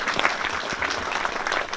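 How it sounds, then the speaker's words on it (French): Crowd applause at a public meeting thanking rural mayors, a dense, steady clapping from many hands at fairly close range, with a brief voice at the end. "je souhaiterais bien qu'on leur fasse un bel applaudissement pour les remercier"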